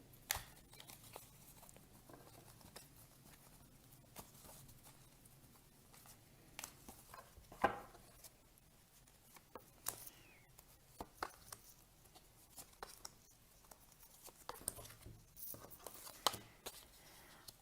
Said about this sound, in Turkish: Şöyle kartlarımızı karıştırıyorum.